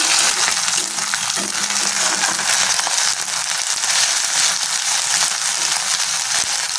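Onions frying with ginger-garlic paste in a pan give a steady, loud, dense sizzle that carries on without a break, with small crackles and pops scattered through it and no talking.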